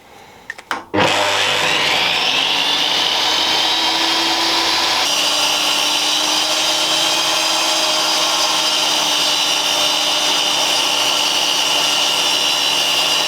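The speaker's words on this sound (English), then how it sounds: "I ended up cutting my strips at about 15mm wide each" Power saw ripping a wooden speargun stock into strips, starting with a sharp spin-up and then a steady, loud, sustained whine with no pauses and no talk.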